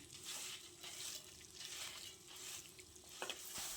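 Urad dal frying in coconut oil in a pan, a faint, steady sizzle that runs without a break, with soft stirring scrapes near the end.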